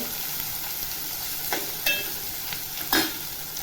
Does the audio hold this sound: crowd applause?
no